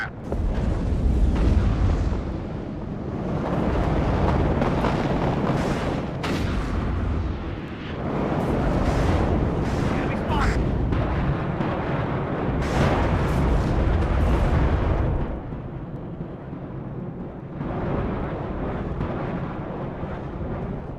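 Sustained artillery fire and heavy explosions from the Cold War real-time strategy game WARNO, a dense, continuous rumble of booms and blasts that rarely lets up, loud throughout with a slightly thinner stretch near the end.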